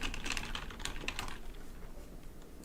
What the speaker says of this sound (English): Yes, that was me typing.